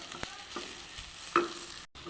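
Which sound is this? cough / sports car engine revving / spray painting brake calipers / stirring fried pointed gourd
stirring fried pointed gourd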